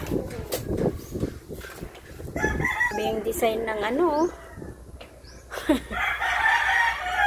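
A rooster crows in a yard during Typhoon Opong, its rising-and-falling call ringing out clearly mid-clip between scattered knocks and bumps, while a person talks nearby before and after.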